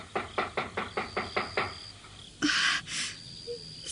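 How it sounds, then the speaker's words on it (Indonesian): A wooden door knocked on in a series of about seven evenly spaced raps, fairly close and crisp, followed by a short noisy scrape and faint thuds in a quiet room. "akapan antara Nyai Sakyamurti dan Warapalupi terhenti oleh suara ketukan pintu"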